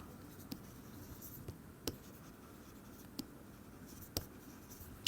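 Quiet writing on a board during a physics lecture, with faint scratching and a few sharp taps spaced through, close and alone without talk.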